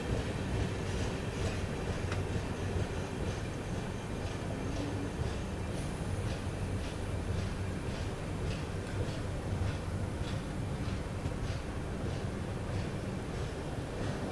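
Udyan Express passenger train running on the Bengaluru to Mumbai route, a steady loud rumble of wheels and carriage noise with faint rhythmic clicks throughout, heard from on board.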